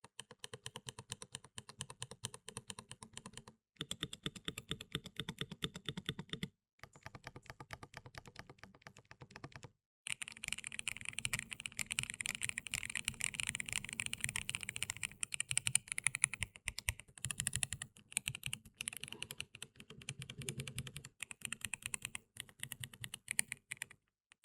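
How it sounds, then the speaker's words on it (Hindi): Rapid typing on a plate-mounted mechanical gaming keyboard, a dense run of crisp clacks in bursts with short pauses between, close and clear with no voices. "इसके बाद बात करेंगे इस कीबोर्ड के एकॉस्टिक्स की।"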